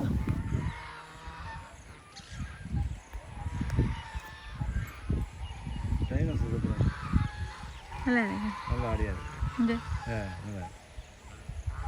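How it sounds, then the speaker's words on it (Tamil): Goose flock honks repeatedly in a noisy chorus at a goose farm, some calls close and loud, others overlapping in the background, with a voice talking over parts of it. "இந்த வாத்துகள் எல்லாம் வந்து கொண்டு இருக்குது உண்மையில் ஒரு விதமான சத்தம் போட்டு கத்தி கொண்டு வருகிறது"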